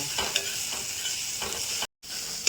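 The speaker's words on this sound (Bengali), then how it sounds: "উচ্ছেটা দিয়ে দিয়েছি এবার এর মধ্যে দেব আমি একটু হলুদ আর একটু নুন দিয়ে এটাকে একটু নাড়িয়ে চাড়িয়ে নেব" Bitter gourd tossed with turmeric and salt in a hot pan sizzles steadily as it is stirred, with scraping strokes of the spatula and a brief silent gap near the end.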